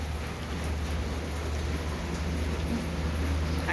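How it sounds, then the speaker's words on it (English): Rain falling outdoors, a steady even hiss of drops with a low background rumble, constant and moderately loud throughout with no talking. "You probably hear the rain."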